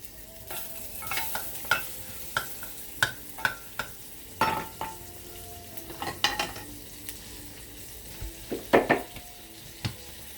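Butter sizzles in a pan for seafood alfredo fettuccine. A soft, steady frying hiss runs beneath frequent close clinks and scrapes of a utensil stirring against the pan.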